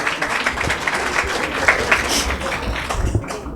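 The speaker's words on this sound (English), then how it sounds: "Clap for them. Thank you guys." An audience at a televised quiz competition claps for the contestants, a moderate scattered round of applause with some individual claps standing out, fading toward the end.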